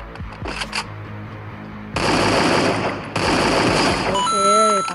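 Bursts of automatic gunfire from the mobile battle-royale game Garena Free Fire, loud and close, in rapid strings with short pauses and a final electronic tone, with no talk over them.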